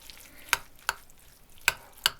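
Four distinct scraping clacks sound as a spoon stirs a garlic and mayonnaise spread for a savory layered cake, close and evenly spaced with quiet in between.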